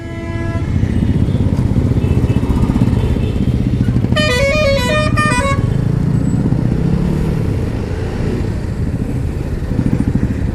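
About fifteen motorcycles ride together in a group, mostly Royal Enfields along with an Apache RR310, giving a constant loud engine drone heard from close by, with a brief horn honk partway through.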